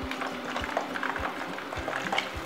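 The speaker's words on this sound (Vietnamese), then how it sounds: "Rồi mình sẽ cho chả giò và mình chiên." Vegetarian Vietnamese spring rolls sizzle in hot oil on a stove at medium heat, a steady close crackle and bubble with small pops and soft periodic low thumps.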